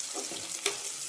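Mango pieces stirred in a frying pan, giving a short burst of steady sizzle with a spoon scraping through it and one sharp clink.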